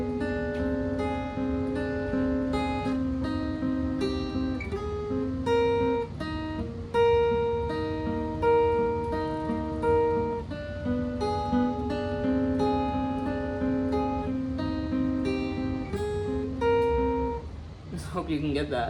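Guitar plays a riff slowly, picked single notes and ringing chords moving steadily at a relaxed pace, alone and close.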